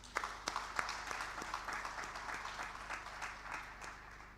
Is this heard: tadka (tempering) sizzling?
no